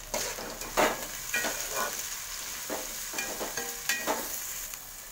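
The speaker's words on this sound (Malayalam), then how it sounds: "സവാള ഇട്ട് കൊടുക്കാൻ അതിലോട്ട് ആവശ്യത്തിന് ഒരു ഒരു 1/2 ടീസ്പൂണോളം ഉപ്പ് ഇട്ടിട്ട് നന്നായി ഒന്ന് വഴറ്റിയെടുക്കാം" Sliced onions with a little salt sauté over a medium flame for chicken curry, crackling steadily up close while a spoon scrapes and stirs them in irregular bursts.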